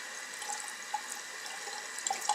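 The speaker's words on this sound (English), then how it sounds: "you rinse your brush off, and you can see that stuff falling out" A makeup brush rinsed under a running tap over a sink, a steady close stream of water with faint splashes and drips as the bristles are worked under it, no talk.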